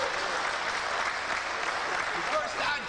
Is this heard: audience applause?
yes